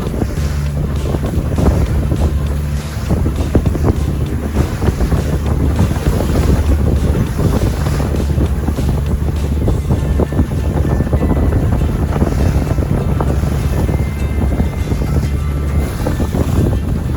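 Strong wind buffets the microphone on a small fishing boat off Hong Kong near the Tsing Ma Bridge. Rough waves slap and wash continuously in a loud, unbroken roar, with a low engine thrum underneath.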